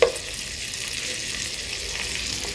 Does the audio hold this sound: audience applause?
no